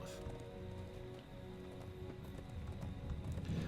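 Steady rain patters in a dark, rainy Rohan setting in a video game, joined by rhythmic hoofbeats of a horse in the foreground. The sound grows slightly louder toward the end, and no one speaks.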